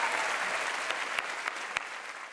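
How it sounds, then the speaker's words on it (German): Audience applause for a female ship captain at an onboard show on the cruise ship AIDAprima, steady dense clapping that holds at one level throughout with a few sharper individual claps standing out. "Bitte einen großen Applaus, Frau Kapitän."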